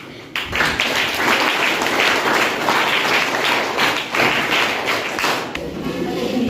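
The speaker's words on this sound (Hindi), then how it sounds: "ताली बजाइए" A group of children at a school child-parliament formation session claps together, a dense sustained round of applause lasting several seconds that fades near the end.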